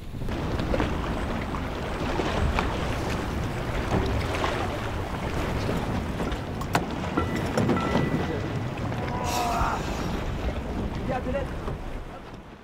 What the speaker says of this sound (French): Il y a le vent qui nous tombe dessus. La pluie qui nous tombe dessus.